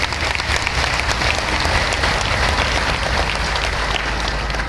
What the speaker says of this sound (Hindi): एक बार सब एक दूसरे के लिए तालियों की गड़गड़ाहट करें